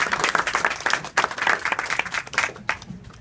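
An audience at a bookstore author talk bursts into applause, a dense run of close clapping that rises and falls over about three seconds.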